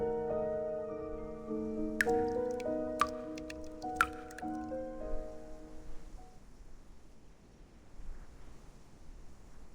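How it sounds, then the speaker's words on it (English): In the game Reverse: 1999, a few sharp, distinct water drips plink one at a time over a sustained tonal hum, which then fades to near quiet. "Sounds like dripping water."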